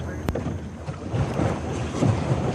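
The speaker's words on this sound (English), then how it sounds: "This is that boat riding." Small boat motoring across open water, with a steady broadband wash of hull and engine noise and wind buffeting the microphone throughout.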